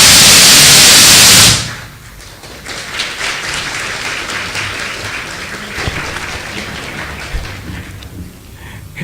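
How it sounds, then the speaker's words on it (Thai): At a formal event opening, a hiss of loud static cuts off and gives way to a steady wash of audience applause, many hands clapping continuously at moderate distance with faint thumps. "ขอเสียงปรบมือดังๆอีกสักครั้งหนึ่งครับ"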